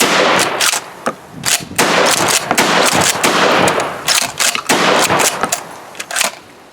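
A Benelli Supernova pump-action shotgun, law enforcement edition, fires at an outdoor range: a quick string of loud, sharp blasts, each with a short echoing tail, spaced unevenly across several seconds.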